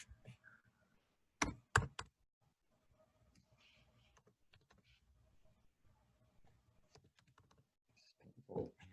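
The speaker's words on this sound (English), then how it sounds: "So he's typing in the code." Fingers tap a laptop keyboard in a few quick bursts of keystrokes, close and moderately loud, separated by long quiet stretches with faint clicks and room noise.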